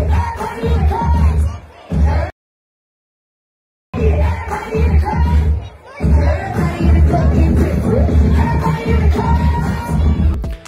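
A nightclub crowd at a performance at Hakkasan Nightclub in Las Vegas, loud and close, with dense cheering, whoops and babble that drop out abruptly for a moment of silence before surging back.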